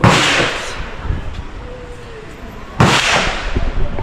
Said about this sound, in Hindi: जब आप कोची टनल में घूम रहे होते हो तो आपको वहाँ पर AK-47 चलाने का भी मौका मिलता है।